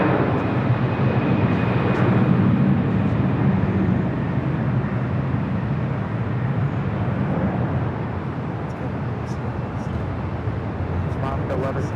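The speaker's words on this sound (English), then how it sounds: "Hawaiian flight 9 A330 rolling down to 25 right." A Hawaiian Airlines A330 airliner rolls down runway 25 right at LAX, a broad, steady engine roar that holds for several seconds and then slowly eases off, with faint clicks on top.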